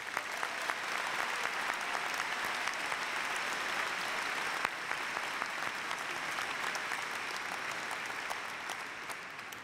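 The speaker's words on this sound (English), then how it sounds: "Let's give them a round of applause." Sustained audience applause fills a large convocation hall, steady dense clapping from many hands throughout, evenly loud with no voices over it.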